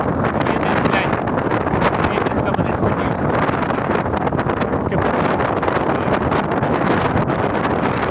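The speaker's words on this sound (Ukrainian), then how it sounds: "Вітер падло сильний." Heavy, constant wind buffeting the microphone while riding a bicycle, a dense roaring rumble that never lets up.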